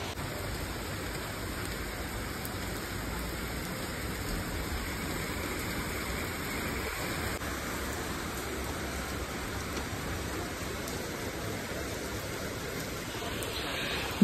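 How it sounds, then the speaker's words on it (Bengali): Heavy rain pours down in a dense, steady hiss that stays constant from start to finish, with no voices. "বাইরে যথেষ্ট আলো আছে কিন্তু তার সঙ্গে পুরো মুষলধারে বৃষ্টি পড়ছে"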